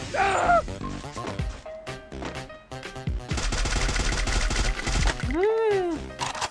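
Gunfire in an open field during a video game: loud, close bursts of shots and rapid impacts, mixed with game effects including a rising and falling whine near the end.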